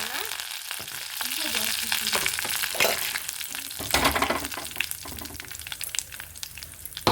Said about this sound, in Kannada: ಸ್ವಲ್ಪ ಸಾಸಿವೆ ಹಾಕೋಣ ಸಿಟ್ಲಿ ಇವಾಗ ಸಾಸಿವೆ ಸಿಟ್ಲಿದೆ ಸ್ವಲ್ಪ ಕರ್ಬೇವು